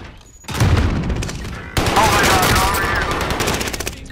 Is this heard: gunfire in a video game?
yes